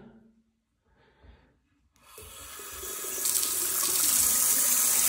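After a quiet start with faint rustling and breathing, a cold water tap opens following cleaning of its check valve, and the flow swells into a strong, steady gushing rush that keeps building.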